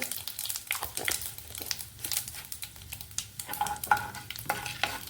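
Mustard seeds and asafoetida frying in a small pan of tempering oil, a dense crackling sizzle with sharp pops and stirring scrapes throughout, close and steady with no talk.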